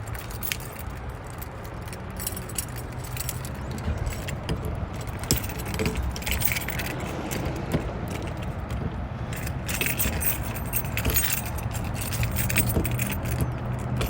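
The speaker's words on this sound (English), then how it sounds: "Let's see if I can find my keys here." A set of keys jangles and clinks steadily outdoors beside a 2022 Keystone Fuzion 428 toy hauler, the metallic rattling continuing throughout over a low background rumble.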